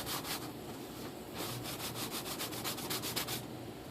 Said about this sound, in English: And then I'm going to sand.